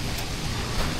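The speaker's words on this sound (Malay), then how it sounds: "Masalah dia sekarang hujan makin lebat." Heavy rain pours down in a dense, even hiss, loud and unbroken over a brief moment with no voices.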